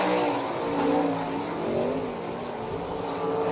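Several 360 sprint car racing engines roar on a dirt oval in the last lap of a race, a dense, steady blare of revving motors that swells and eases slightly as the cars run through the turns.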